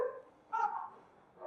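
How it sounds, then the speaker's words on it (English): Neighbouring dogs barking outdoors near a backyard hot tub deck build: two or three short, faint barks from some distance, separated by quiet gaps. "Can you hear that? Neighbour dogs, hopefully friendly."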